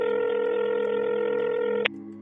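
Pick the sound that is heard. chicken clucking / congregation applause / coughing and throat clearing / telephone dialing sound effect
telephone dialing sound effect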